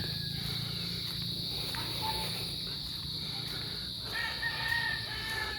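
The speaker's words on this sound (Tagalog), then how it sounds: "naririnig natin dito tilaok ng manok kahol ng mga aso sa mga kapitbahay" A rooster crows in the distance over a constant chorus of insects, with other faint farmyard sounds in a steady outdoor background.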